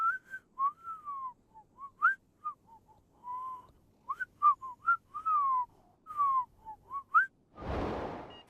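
A person whistles a lilting tune of short, sliding notes with little pauses, ending in a burst of breathy noise.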